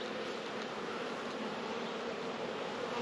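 Bees buzzing close by during an early-season beehive check, a dense, continuous, fairly loud drone with no break.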